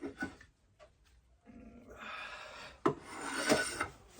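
A wooden handle being scraped smooth with a blade, a few short rasps and then a longer run of steady close scraping strokes, no voices.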